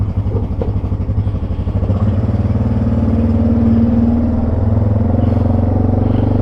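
A 1996 Yamaha Wolverine 350 4x4 ATV engine runs close by at a steady idle with a rough, clattery mid-pitched throb, loud and continuous, with no talking.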